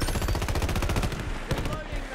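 Rapid pistol fire in the video game Shatterline, a tight stream of loud, close shots at a high rate that continues for about two seconds without a break.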